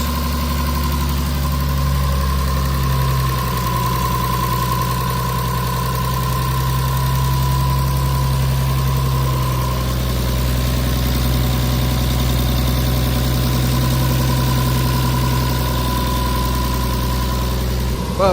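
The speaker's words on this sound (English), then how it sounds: "obviously it's idling" A fully forged Toyota 1JZ engine in a Toyota Soarer idles steadily with a low, even rumble and a faint hum on top, unchanging throughout with no voices.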